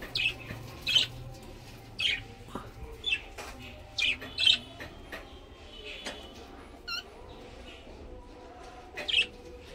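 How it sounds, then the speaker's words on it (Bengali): Frightened birds kept in a shed with clay nesting pots squawk and chirp in sharp, repeated bursts about every second or two, fairly close, over a low background rumble with possible faint voices. "প্রচন্ড ওড়ে ভয় পায় পাখিগুলো, দেখো একটু আওয়াজ হলেই ভয় পায়।"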